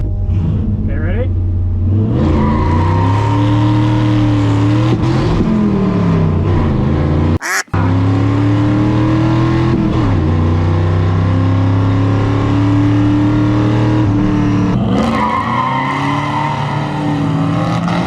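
Ford F100 truck on a fast acceleration pass, its engine loudly revving up through the gears with rising pitch sweeps and a sharp break at one shift, close and dominant with people talking.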